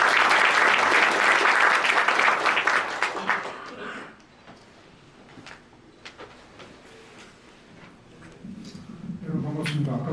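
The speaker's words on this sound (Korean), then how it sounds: "큰 박수 부탁드리겠습니다" Audience applause at a library data research center launch ceremony, loud dense clapping that fades out after about four seconds, followed by quiet room noise and then a speaker's voice.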